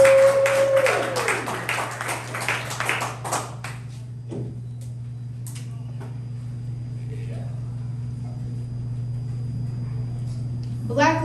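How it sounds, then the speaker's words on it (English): Audience applause for a poet at a poetry slam qualifier, a brief burst of clapping at the start that quickly fades into a steady low hum of the room. "Y'all clap it up for the poet."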